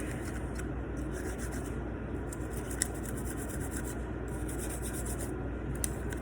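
A brush scrubs steadily at carbon buildup inside a pistol being cleaned, a continuous close rasping rub with faint irregular clicks and no voices.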